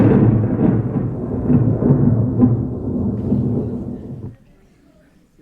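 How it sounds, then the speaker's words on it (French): Rolling thunder and heavy storm rumble at full loudness for about four seconds, then cutting off abruptly to near silence. "Les tempêtes."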